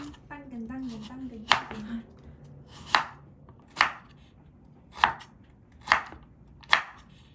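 A knife chops carrots steadily on a cutting board, about one sharp stroke per second, close up, with some soft talking at the start.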